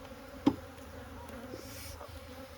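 Honey bees buzz softly and steadily inside an open horizontal hive during an inspection, a low continuous drone with one brief sharper buzz close by early on.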